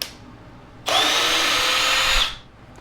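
Milwaukee 2801-20 brushless cordless drill spinning in reverse with torque turned all the way up, a steady loud high whine lasting about a second and a half, starting abruptly and winding down at the end.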